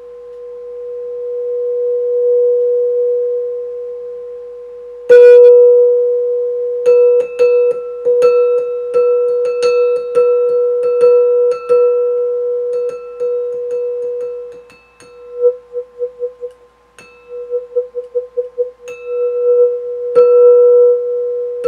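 An aluminum xylophone (glockenspiel-style) key mounted over a small solenoid pickup with a ferrite core: a steady pure tone hums alone, then a run of repeated struck notes rings out with long, sustained decay.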